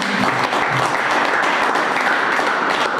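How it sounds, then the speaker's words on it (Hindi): Church congregation applauding at a Voice of God church in Balrampur, a dense, steady wash of many hands clapping close by, sustained evenly throughout with no voices standing out. "क्या परमेश्वर की महिमा के लिए ताली बजा सकते हैं?"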